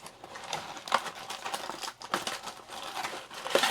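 Crinkling and tearing of a foil wrapper in short bursts, close and fairly quiet, as an NFL trading card pack is ripped open.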